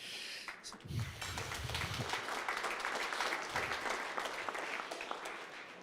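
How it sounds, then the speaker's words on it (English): A conference luncheon audience applauds the ArianeGroup teams, a full round of clapping that swells after a second and holds steady, filling the hall with dense, continuous claps. "I would like you to applaud them"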